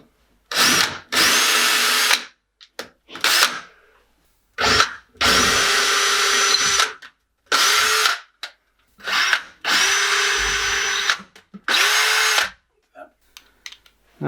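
A power drill bores into a wall while an airing cupboard shelf is being fitted, sounding in repeated loud bursts of whining motor with short pauses between them, close to the listener.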